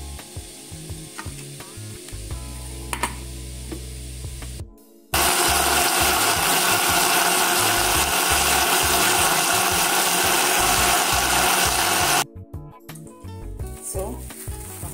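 A kitchen blender purees cooked tomatoes for a Nigerian seafood stew. It kicks in abruptly with a loud, steady whirring roar for about seven seconds, then cuts off sharply, with quieter kitchen clatter before and after.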